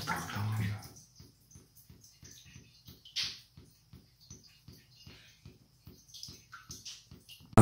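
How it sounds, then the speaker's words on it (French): Water drips steadily from a new bathtub faucet, a soft, even series of about twenty close drops in a quiet bathroom, with a brief splash at the start and a faint rustle partway through. "j'entends la goutte couler."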